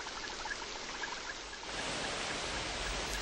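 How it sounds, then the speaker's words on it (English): Heavy rainy-season rain falls in the Amazon rainforest as a dense, unbroken hiss of water that grows noticeably heavier and louder partway through. "nowhere else in the world does it rain with such fury as in the Amazon."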